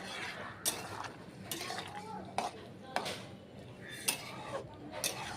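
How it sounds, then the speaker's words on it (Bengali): A utensil scrapes and clinks repeatedly against a pan while boiled peas are stirred into goat-fat ghugni, a series of soft, irregular metallic strokes close by and at low volume. "দিয়ে এবার খুব ভালো করে এটা নাড়িয়ে চাড়িয়ে নেব"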